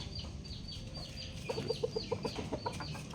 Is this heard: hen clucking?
yes